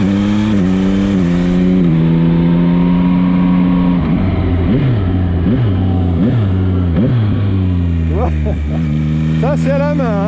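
A Yamaha MT-09 motorcycle, the 2022 A2-licence version, rides at steady engine drone, and a series of sharp throttle blips rise and fall as the rider downshifts by hand. Near and loud, with a voice talking over it.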